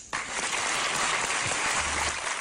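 Employees break into sustained applause for their boss at a company's 30th-anniversary celebration, a thick, even burst of clapping that starts abruptly and holds steady.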